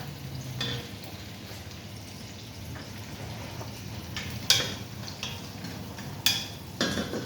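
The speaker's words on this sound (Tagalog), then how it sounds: "Lulutuin natin una guys ang gigisalin na ang onion at saka tom." Onion and tomato sautéing in a pan for chicken guisado, a low steady sizzle with a few sharp clinks of a utensil against the pan, close by and without talk.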